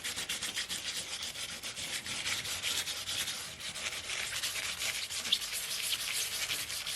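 A short, stiff-bristled scrub brush scrubbing a foil transfer, a continuous close rasping rub with quick back-and-forth strokes and no talk.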